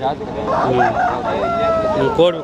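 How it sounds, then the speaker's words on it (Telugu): A rooster crows at a Friday country-chicken market in Gudur, its call mixed in with nearby talk and general market chatter. "ఇక్కడ చూడండి ఒక కోడిపుంజి ఉంది"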